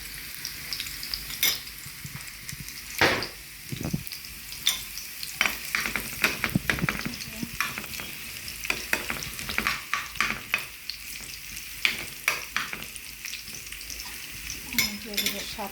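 Meat sizzles and fries in a little oil in a pan while being made into kala bhuna, a steady crackle broken by repeated scrapes and clinks of stirring, close and moderately loud, with no talk.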